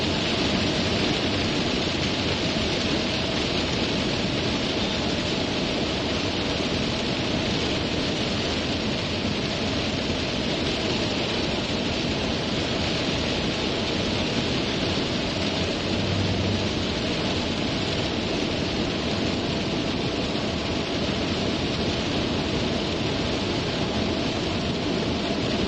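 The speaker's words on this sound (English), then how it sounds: "look at that rain. It looks like snow is coming down so hard." Heavy rain pours down in a dense, unbroken roar during a thunderstorm on the road, loud and steady throughout with no voices.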